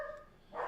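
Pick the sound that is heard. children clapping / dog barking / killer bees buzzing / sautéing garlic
dog barking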